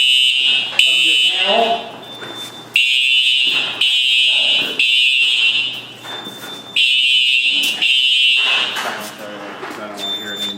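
Building fire alarm panel sounding a loud, steady high-pitched tone in repeated bursts with brief gaps, while a person talks over it nearby.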